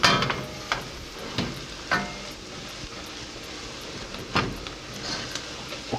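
Spices, chili and pepper powder are stirred into a seafood boil mixture, with a spoon knocking and scraping against the pot in irregular sharp clacks over a steady background hiss.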